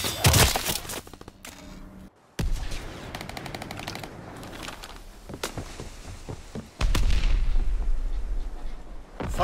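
Artillery fire in the World War II shooter Call of Duty WW2, heavy booming blasts and rattling gunfire arriving in bursts, with loud impacts near the start and again later, dropping to quieter battlefield noise between.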